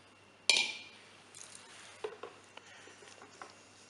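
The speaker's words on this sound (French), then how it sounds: "Bien remuer de façon à hydrater tous les cristaux, surtout au fond" A kilo of sugar stirred with water in a pot to hydrate the crystals, with a sharp scraping clink at the start and then faint, intermittent scrapes and taps of the spoon against the bottom.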